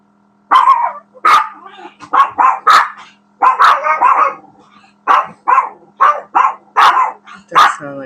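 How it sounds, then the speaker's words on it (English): A dog barks outside on the porch, a run of about a dozen loud, close barks in irregular bursts with a steady low hum underneath. "Maybe the dog's on the porch."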